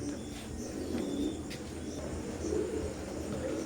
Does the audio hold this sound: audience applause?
no